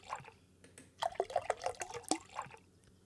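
An animal drinks from water in the video game Animallica, giving a run of close, rhythmic liquid laps and drips that lasts a couple of seconds.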